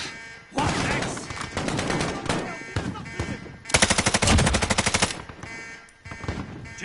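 Loud, close bursts of automatic machine-gun fire in a combat setting, rapid rattling volleys that swell and cut off across several seconds, with a few shouted voices mixed into the din.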